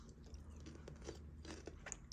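Crunchy peppery radish dressed with balsamic vinegar and olive oil being bitten and chewed close up, a quiet series of crisp crunches and wet chewing sounds with no talking.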